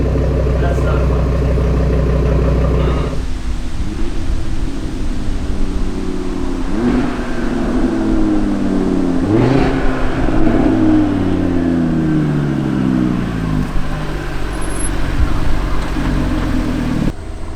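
An Audi RS3 with an iE valved catback exhaust idles loudly and close by, then revs repeatedly with rising and falling sweeps and a rough, rowdy drone between the blips.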